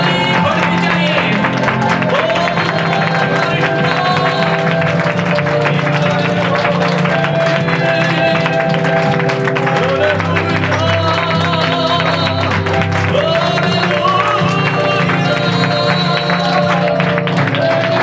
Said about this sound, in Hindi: आपकी ताली बढ़नी चाहिए।